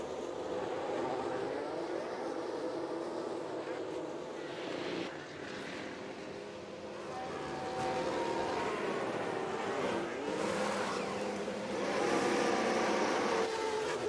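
Formula 1 cars in F1 Manager 2022 drone around the circuit during a pit-stop phase, a faint, continuous engine hum with gently shifting pitch and passing swells.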